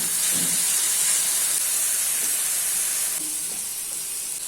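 Tomato puree hitting a hot onion masala in a pan, a loud, continuous hissing sizzle close up that eases slightly toward the end, with faint stirring scrapes underneath.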